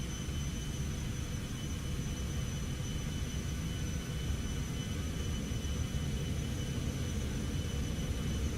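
Cessna Citation X jet engines spool at takeoff power in X-Plane 12, a steady, loud roar with a thin whine on top, unbroken and without talk.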